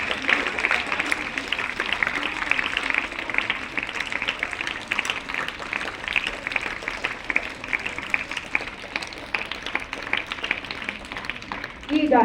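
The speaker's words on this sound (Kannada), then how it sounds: "ಎಲ್ಲರೂ ಜೋರಾಗಿ ಚಪ್ಪಾಳೆಯನ್ನು ತಟ್ಟೋಣ" Children and teachers clapping loudly together at a school Rajyotsava celebration, a sustained dense applause over twelve seconds with crowd murmur and voices mixed underneath.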